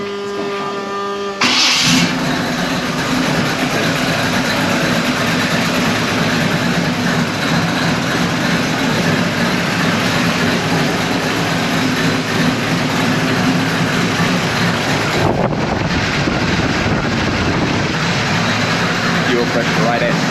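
A 1987 G-body car engine running a Holley carburetor cranks and fires up, then settles into a loud, steady rumbling idle close by, with a voice talking over it.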